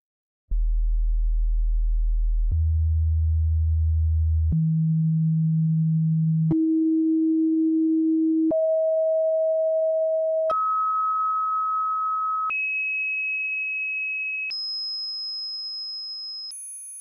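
A sequence of eight steady pure tones, each held about two seconds, stepping upward from a deep hum to a high piercing whistle.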